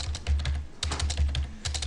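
Fast typing on a computer keyboard, a steady patter of close key clicks with a brief pause partway through and no talking.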